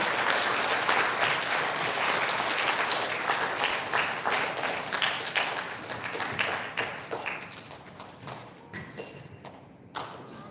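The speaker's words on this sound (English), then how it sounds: "Big round of applause for our fourth grade." Audience applause fills an elementary school recognition ceremony, honoring fourth grade students: dense, sustained clapping from a crowd that stays loud for most of the stretch, then thins and fades toward the end.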